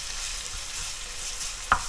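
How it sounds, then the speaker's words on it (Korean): Steady hiss of garlic frying in oil to make chili oil, a soft continuous sizzle with one brief clink near the end. "마늘을 볶아줘"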